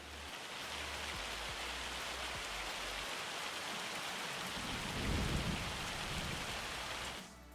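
A hail storm in Farming Simulator 25 pours down as a dense, steady wash of drumming noise over a low rumble, swelling slightly near the end before cutting off abruptly.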